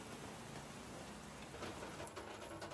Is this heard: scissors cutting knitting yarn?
no